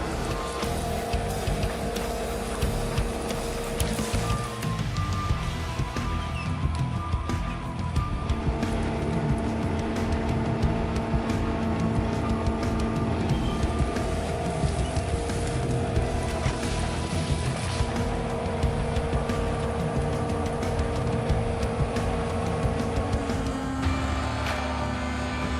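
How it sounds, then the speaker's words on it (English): A tree-cutting machine on a skid steer rumbles with a steady dense mechanical roar and whine while cutting through tree stumps in a forest clearing, continuous and loud throughout. "With fast speed, it cuts through tree stumps accurately and cuts multiple trees at the same time"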